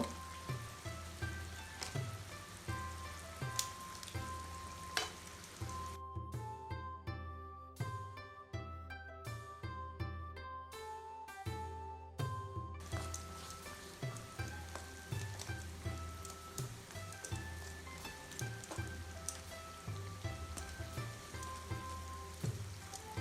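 Shrimp fry in a pan while being cooked for a Bangladeshi shrimp roast, giving a soft, continuous sizzle and patter under a steady layer of background music.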